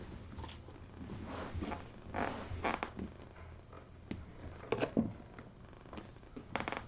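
A cat in a kitten playroom purring softly, a faint low rumble close by with light rustling and shuffling around it.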